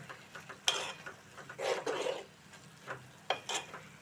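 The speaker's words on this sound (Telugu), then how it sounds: "అడుగంటకుండా తిప్పుతూ ఉండాలి" A spoon stirs spinach curry in a pan, giving soft scrapes and clinks against the metal with a faint sizzle underneath, in a few short, quiet strokes with pauses between them.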